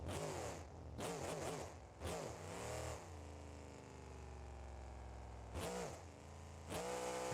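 A short-wheelbase truck's engine in a video game revs loudly and up close, rising and falling in repeated surges with a steady idle drone between them and no talking.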